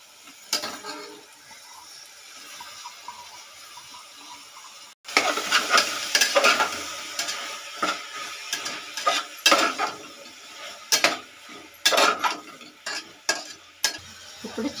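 Amaranth leaves (thotakura) tossed into a pan with turmeric and salt for chicken biryani, with a quiet start and then a loud sizzle broken by repeated scraping stirs of a spatula against the pan.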